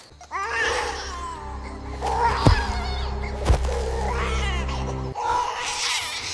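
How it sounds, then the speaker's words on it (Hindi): A human baby cries in a dark jungle at night, a sustained wailing that rises and breaks over several seconds, fairly close and alone with no talking. "किसकी रोने की आवाज है?"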